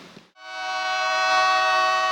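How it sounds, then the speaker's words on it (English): Reading Blue Mountain & Northern inspection train of Bud cars sounding a steady, multi-tone horn that swells in and holds loud and clear after a brief clunk. "Reading, Blue Mountain, and Northern inspection trains."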